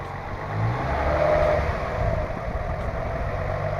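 Infiniti G35 Coupe engine held at a steady rev of about 2,000 RPM, a fairly faint, even drone with a slight swell partway through.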